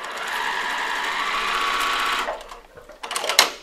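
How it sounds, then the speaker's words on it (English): A sewing machine fitted with a quarter-inch guide foot stitches quilt seams in a fast, steady mechanical whir that stops after about two seconds, followed by a few soft handling clicks and rustles, close by. "My 1/4 inch foot has a guide, and we're just gonna sew on each side."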